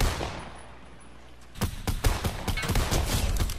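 Gunfire in a video game: a quiet lull, then a rapid burst of close, loud shots in quick succession that keeps firing steadily to the end, with no talking.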